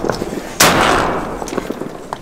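Shotgun blast during a diver duck hunt on the Chesapeake Bay, a single loud close report with a sharp onset that rings and decays over about a second, set against low outdoor background noise.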